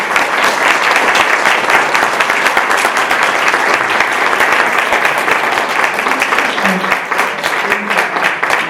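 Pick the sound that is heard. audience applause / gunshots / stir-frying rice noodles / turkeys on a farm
audience applause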